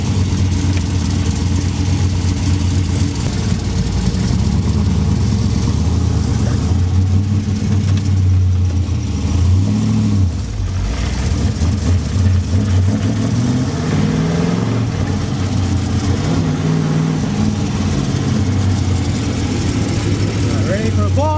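A 1986 Mercedes 560SL fitted with a 5.3 LS V8 drives with a steady, loud low engine drone throughout, rising and falling slightly, with a voice talking over it.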